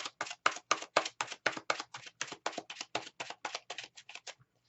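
A steady run of quick, crisp tapping clicks from tarot cards being shuffled, about four per second, close and alone, stopping abruptly at the end.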